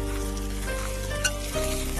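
Shiitake mushrooms with shredded ginger sizzle and crackle in a generous amount of hot oil, a steady close frying hiss with a brief stir partway through and no talking.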